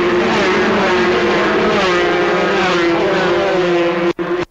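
Racing motorcycles at the 1999 Southern 100 Junior Race roar loudly and continuously as they rev and pull away from the start, a dense, sustained engine blare that cuts off abruptly near the end.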